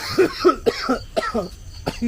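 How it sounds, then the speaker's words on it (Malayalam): A quick series of hoarse, throaty coughs, close and fairly loud, coming in uneven bursts one after another. "ചുമ"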